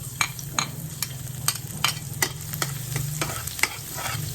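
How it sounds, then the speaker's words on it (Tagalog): Garlic goes into hot oil and crackles in a pan, a close sizzle punctuated by a run of sharp spatula taps and stirring scrapes at a quick, uneven rhythm. "ilalagay ko na yung bawang"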